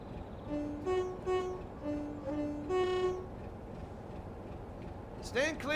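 A sound-modded British Rail Class 165 diesel multiple unit runs in the video game Train Sim World 5. It gives a series of stepped, tonal horn-like and engine notes, then a rising electronic squeal at the end.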